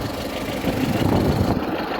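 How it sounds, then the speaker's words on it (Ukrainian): A T-40AM tractor idles after driving through mud on heavy soil, its low, uneven chugging engine running steadily and fairly quietly with no talk. "трактор виїхав в болоті такий трошки"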